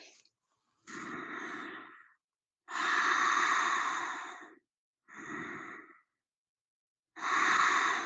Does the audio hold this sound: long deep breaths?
yes